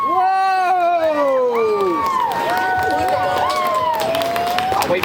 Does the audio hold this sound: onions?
no